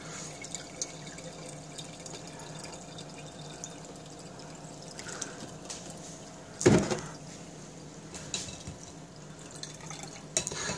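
Salt water drips slowly through a filter while homemade salt is being made, faint and sparse over a low steady background hiss, with one louder knock partway through.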